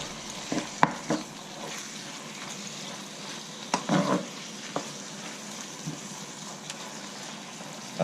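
Cranberries and sultanas frying in a pan for rice with chicken, a faint steady sizzle with a few soft stirring scrapes and clinks, no voices.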